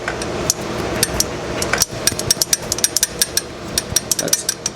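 Loose, unadjusted valve tappet on a Honda CB160 engine clattering in a rapid, irregular series of sharp metallic ticks over a steady running hum, close and fairly loud.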